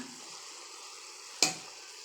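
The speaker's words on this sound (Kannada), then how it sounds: "ಹಾಗೆ ಬೇಯಕ್ಕೆ ಬಿಟ್ಬಿಡಿ ಈಗ ಅದು ಫ್ರೈ ಆಗ್ತಾ ಇರೋದ್ರೇ" Eggplant curry frying in a pan, a quiet, steady sizzle with one sharp clink of a utensil near the end.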